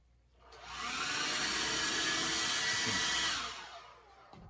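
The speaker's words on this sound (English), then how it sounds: "make sure my blow dryer works" A blow dryer on its cold setting whooshes on with a steady, loud airflow for about three seconds, then winds down; no speech.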